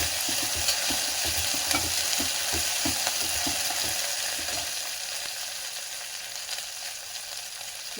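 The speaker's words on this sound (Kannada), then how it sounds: "ಸ್ವಲ್ಪ ಈರುಳ್ಳಿನ ಹಾಕ್ಬಿಟ್ಟು ಚೆನ್ನಾಗಿ ಕಂದು ಬಣ್ಣ ಬರುವವರೆಗೆ ಫ್ರೈ ಮಾಡ್ಕೊಳ್ಳೋಣ" Chopped onions fry in hot oil for a ridge gourd palya, a steady broad sizzle with rhythmic scrapes and stirs of a spatula during the first half, then a quieter continuous crackle alone.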